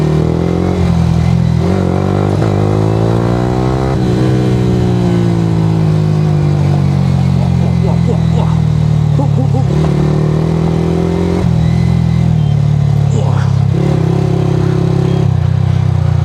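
A road motorcycle, not built for off-road use, is ridden off-road, its mid-pitched engine droning loud and steady throughout with rising and falling revs and some clatter, close to the rider.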